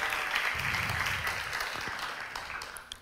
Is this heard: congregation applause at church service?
yes